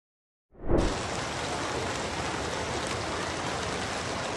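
Heavy rain pours during flooding in Puerto Rico, starting abruptly after a moment of silence and then holding as a dense, steady hiss of rainfall with no voices.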